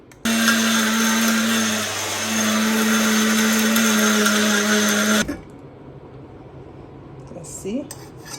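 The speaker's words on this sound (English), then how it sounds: "the next thing we're going to do is to put them in the herb grinder and grind to powder" Electric herb grinder whirring loudly and steadily as it pulverizes dried ogede odo into powder, running for about five seconds before cutting off abruptly, leaving quiet room noise and a faint brief rustle.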